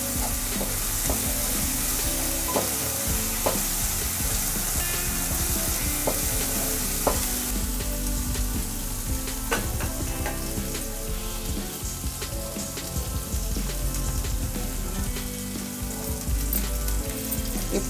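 Ginger-garlic paste frying in a pan alongside goat brain, a steady close sizzle with scattered pops and scraping stirs throughout.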